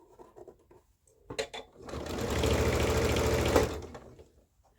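A sewing machine stitches fabric pieces for a garment with collar, facing and sleeves. A few quick clicks lead into a close, continuous buzzing run of stitching for almost two seconds, then it stops.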